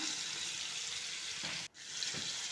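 Mackerel frying in hot oil in a pan for a Kerala-style fish fry, a steady broadband sizzle and crackle throughout, close and even, with a brief dropout partway through.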